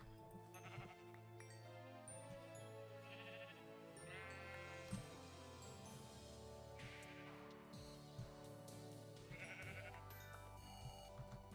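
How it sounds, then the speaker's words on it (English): Many sheep bleat in Minecraft with the GTNH modpack, overlapping blocky bleats repeating over and over at varying pitches against a faint steady game background. "So why are there so many sheep?"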